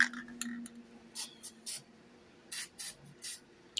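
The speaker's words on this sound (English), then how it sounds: "get a spray can with the cheap stuff" Short hissing bursts from a spray can, several quick sprays with pauses between, close up and fairly loud.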